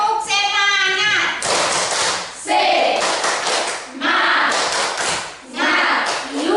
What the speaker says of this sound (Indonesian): Kita boleh tepuk semangat supaya kita lanjut lagi?